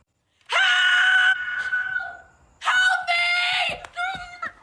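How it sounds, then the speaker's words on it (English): Scream in the 1981-set FMV interactive movie game The Gallery: two loud, close, sustained screams, the first drawn out and falling, the second shorter with broken gasping cries after it. "Scream!"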